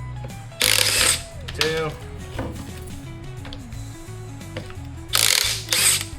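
A ratchet fitted with a 15 mm socket turns the strut bolts on a Ram 1500 during a front quick-strut install, giving two loud bursts of rapid clicking separated by quieter working noise, with a brief spoken count.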